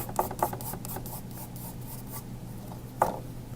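Chalk scrapes and rubs against paper while clouds are sketched, in a few short, dry strokes near the start and one sharper scrape near the end, quiet and close.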